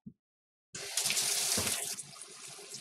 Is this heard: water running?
yes